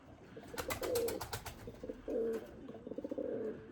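Limoni breeding pigeons coo close by in three soft, throaty bursts, each a rolling, pulsing call with brief pauses between.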